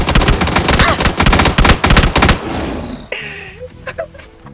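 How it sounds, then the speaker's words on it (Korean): Rapid machine-gun bursts in a video game rattle loud and close for about two seconds. Quieter game sounds and a brief voice follow. "아니 예언아 총을 쏴"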